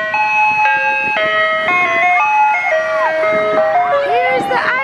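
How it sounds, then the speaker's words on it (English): An ice cream truck plays its tinkling electronic jingle loudly and steadily, a bright chiming melody of stepped notes running throughout, with a voice briefly heard near the end. "Here's the ice cream truck."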